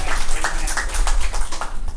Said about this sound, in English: maybe a round of applause on that